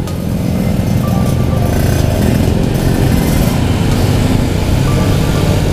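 A carbureted Honda Scoopy scooter engine idles and putters at a motorbike night gathering, a steady, close buzzing drone that holds without a break.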